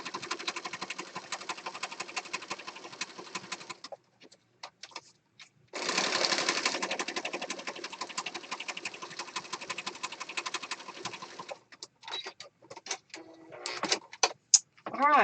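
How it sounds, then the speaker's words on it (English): A sewing machine stitches around the edge of a junk journal, running in fast rhythmic bursts with short pauses between runs, close and fairly loud. "I'm just sewing around."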